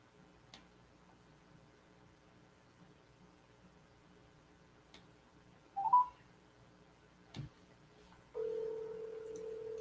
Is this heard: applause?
no